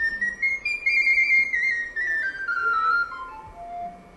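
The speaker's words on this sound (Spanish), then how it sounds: "Esta sopranino suena un poco así como esto." A small sopranino recorder plays a short, shrill melodic line, a few high clear notes that step downward, heard alone and fairly close.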